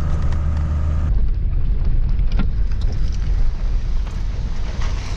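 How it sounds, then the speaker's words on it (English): Heavy rain on northern Vancouver Island drums steadily and loudly, a dense continuous wash with a low vehicle rumble underneath, heard from inside an older 4x4 truck. "is it ever raining."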